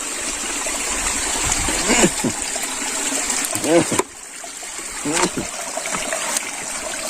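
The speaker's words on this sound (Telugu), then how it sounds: "ఇక్కడి నుంచి ఆ కొండలోకి అయితే వెళ్తున్నాయి వాటర్ అయితే" Water streams down a small hidden waterfall near Hyderabad, a steady close rushing and trickling that runs the whole time, with a few short voices over it.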